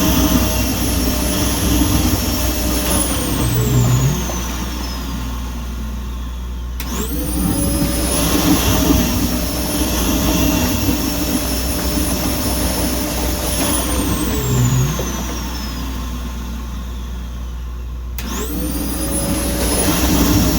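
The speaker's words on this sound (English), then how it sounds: "we are bursting air into the bead system to disturb these nano beads, to get all dirt separated" Air bursting into a nano-bead filter during a backwash, a continuous loud whooshing roar that cuts off and restarts twice, each time with a falling, whistling tone, and nobody speaking.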